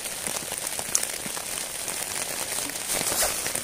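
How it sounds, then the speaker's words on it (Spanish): Steady rain falls through the night in the Sierra de Cazorla mountains, a dense even patter of drops on surfaces with no voices over it. "Está lloviendo."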